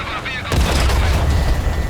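Artillery fire in World of Tanks: a sudden loud boom lands half a second in, followed by a sustained low rumble and crackling debris under the battle noise.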